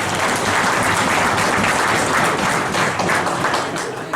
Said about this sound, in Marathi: मी टाळ्या वाजवून हरकत नाही, ओम साठी वाजवा.